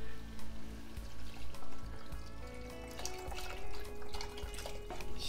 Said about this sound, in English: a whole quart of low-sodium chicken broth